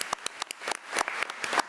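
Applause from a meeting audience, a round of clapping with sharp irregular hand claps spread across the moment, moderately close and fairly sparse, with no talk over it.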